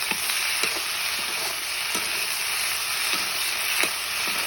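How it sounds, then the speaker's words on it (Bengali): Homegrown okra sizzles and crackles steadily in a hot pan, with occasional sharper scrapes and pops as the pieces are stirred, close and continuous with no talking. "এখন আমি ঢেঁড়সগুলো আস্তে আস্তে দিয়ে দেবো।"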